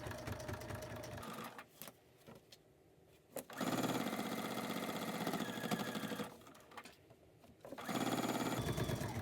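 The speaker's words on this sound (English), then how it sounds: "just keep lining that leather up with the point and stitching" Sewing machine stitching soft leather for a bag at a slightly longer stitch length, running in steady bursts with short pauses between them, close and fairly loud.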